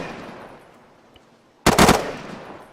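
A sudden, loud burst of full-auto gunfire erupts after a quiet stretch, a rapid string of close shots lasting about half a second and then trailing off into a fading echo.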